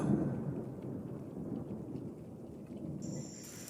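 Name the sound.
rain with thunder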